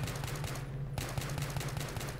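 M417 rifle fire in Battlefield 3 close-quarters combat, quick rhythmic bursts of shots over a steady low hum, with a brief pause before firing resumes, moderately quiet.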